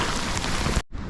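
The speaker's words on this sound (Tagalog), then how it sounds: "umuulan" Rain falling at the shore during bad weather while shore casting for fish, a dense close patter of drops that cuts out abruptly near the end, then returns more faintly.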